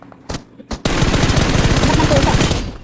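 Rapid automatic gunfire in the PUBG Mobile shooter, a couple of sharp single shots first, then a loud, sustained burst of fast rhythmic fire lasting about two seconds.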